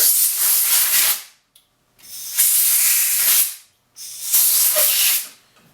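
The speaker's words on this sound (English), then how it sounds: "A little bit of compressed air." Three strong bursts of compressed air blow from an air compressor nozzle while fitting a handlebar display and throttle, each hiss lasting about a second with short silent gaps between, loud and close.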